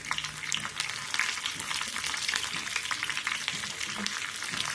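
Steady crackling sizzle of curry leaves and cashews frying in hot oil, close and continuous, with faint stirring sounds underneath.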